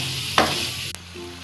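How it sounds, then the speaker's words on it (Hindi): Seekh kebabs going into a pan of fried chickpeas for a korma, a brief loud hiss and scrape of stirring followed by a sharp clink and a softer ongoing sizzle. "अभी इसमें हम शामिल कर देंगे सीख कबाब।"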